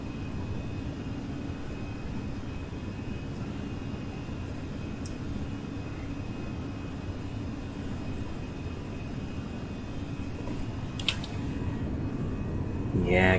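Airbus A320 jet engines during initial climb produce a steady, loud low-frequency drone heard from the cockpit, constant throughout with a slight rise near the end, as a voice talks over it.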